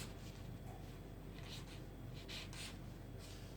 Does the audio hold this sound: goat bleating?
no